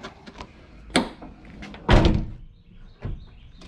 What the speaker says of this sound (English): All right, door's open.